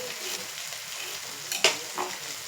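Chicken fry spits and sizzles in a pan over high heat, a soft steady hiss broken by a couple of sharp spoon scrapes and clacks as it is stirred.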